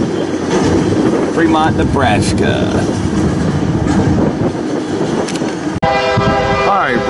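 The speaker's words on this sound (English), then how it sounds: "One engine pulling all these empty auto racks east, going into Omaha and Council Bluffs." Freight train led by a single engine hauling empty auto racks east through Fremont, Nebraska, rumbling steadily nearby with a horn blast near the end; someone talks over it.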